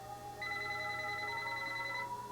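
A telephone rings once in a steady electronic tone lasting about a second and a half, moderately quiet over a low background hum, with no talking.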